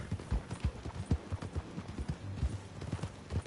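Horse hooves clip-clopping in the Red Dead Redemption 2 video game, a close, rhythmic walking gait of irregular thuds heard alone with no talk.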